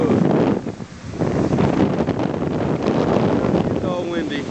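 Loud wind buffets the microphone in gusts at Cape San Blas, Florida, with a rough rumbling roar throughout and a brief lull near the start.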